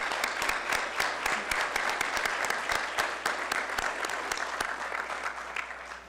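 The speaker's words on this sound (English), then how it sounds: "Please give a warm clap for Dr. Hildreth." An audience applauds a Meharry Medical College honoree just named Nashvillian of the Year, with steady dense clapping and no voices, holding level for the whole stretch before easing slightly at the end.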